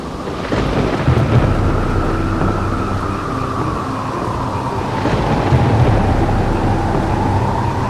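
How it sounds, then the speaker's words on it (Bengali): Kalbaishakhi thunderstorm in a cartoon: dense, heavy rain pours without a break while low thunder rolls and swells in the background, loud and close. "কালবৈশাখীর ঝড়ের সাথে মুহুর মুহুর বৃষ্টিতে ভেসে যাচ্ছি চারিদিক"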